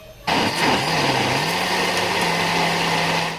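Electric juicer grinding apricots with half a cup of tamarind pulp, starting abruptly with a loud steady motor whir and rising hum that runs continuously without pause.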